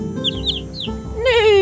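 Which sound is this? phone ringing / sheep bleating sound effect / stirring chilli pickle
sheep bleating sound effect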